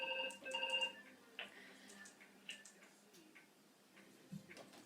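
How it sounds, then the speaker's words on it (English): A phone's electronic ringtone chimes for about a second at the start of an incoming call, then cuts off, leaving a quiet room with a few faint clicks and rustles. "Sorry, that's somebody ringing me."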